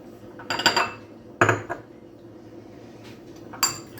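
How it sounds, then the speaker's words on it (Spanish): Utensil clinking against a bowl while mustard and orange juice are mixed into a sauce for brushing pork ribs, a few separate bright clatters with quiet gaps between them, close and moderately loud. "mezclamos bien"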